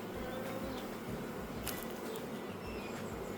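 Honeybees drone around an open hive already heavy with honey, a steady layered buzz with individual insects passing near, alone without voices.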